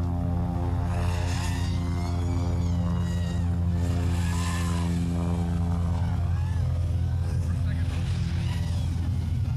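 FPV racing drones hum and whine through a drone racing league race in Alaska, their steady droning overlaid by shifting higher propeller whirs, with a commentator talking throughout.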